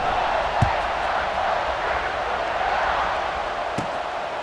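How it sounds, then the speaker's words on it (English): Stadium crowd in the College Football 26 video game holds a steady, loud buzz of murmuring noise throughout, with a couple of brief thumps standing out from the constant roar. "this crowd is buzzing after that last score"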